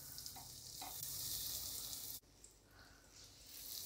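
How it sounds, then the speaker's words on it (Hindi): Butter heats in a pressure cooker with a soft, steady hissing sizzle that keeps going quietly throughout, briefly dipping before it picks up again. "उसके लिए मैंने कुकर रख लिया है और कुकर में मैं बटर डालूंगी।"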